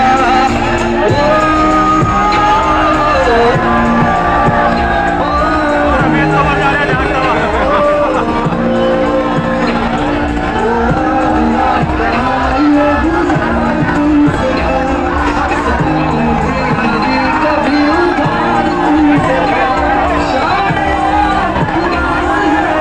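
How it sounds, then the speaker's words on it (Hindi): A dense crowd of party workers at a political road show in Bijnor makes a loud, steady roar of shouting and cheering, with music and voices mixed through it. "रोड शो में दोनों पार्टी कार्यकर्ताओं की भारी भीड़ रही।"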